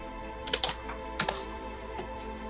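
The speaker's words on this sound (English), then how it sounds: "Oh, it's typing, okay." Computer keyboard typing: a few quick clusters of clicky keystrokes in two short bursts, close and fairly quiet over a steady hum, with no voices.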